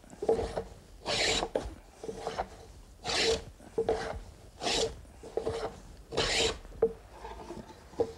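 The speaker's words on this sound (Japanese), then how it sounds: "両面の高いところ高いところを一応探してそれを削っていくんです。" A hand plane shaving a wooden board in Edo sashimono joinery gives repeated rasping strokes, about seven of them in a steady rhythm. It is close and moderately loud, with short pauses between the strokes.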